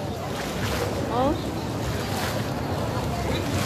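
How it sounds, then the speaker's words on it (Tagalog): A water fountain gushing outdoors at Old Souq Salmiya in Kuwait, a steady broad rush of splashing water with wind buffeting the microphone, a brief faint tonal sweep near the middle, and no clear talk over it. "May fountain sa likod ko. Ayan, oh, oh, bumubulwak siya."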